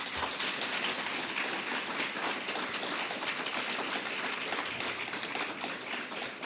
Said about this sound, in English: A round of applause for the candidates.